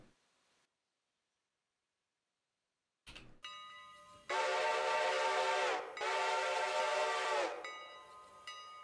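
A Mikado steam locomotive's whistle in a railroad video game sounds loud and sustained in two long, chord-like blasts after a silent stretch and a brief start-up, then trails off into shorter toots and hiss.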